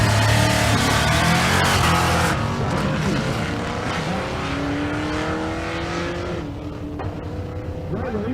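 Drag racing cars at a Kearney, Nebraska race, including a Fox Mustang, roar loudly at full throttle, then settle into a sustained engine drone with rising revs and a faint voice in the background.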